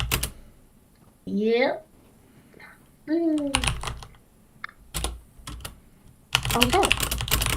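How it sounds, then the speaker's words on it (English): A computer keyboard is typed on loudly during a board meeting. Bursts of clattering keystrokes come in clusters between short spoken replies. "Who's typing so loudly?"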